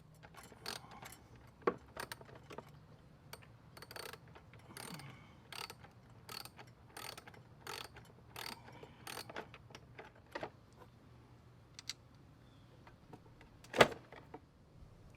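A Torx wrench works the screws loose from a Can-Am Spyder fairing, making a run of close, sharp ratcheting clicks and clacks in uneven bursts, with one louder knock near the end over a low steady hum.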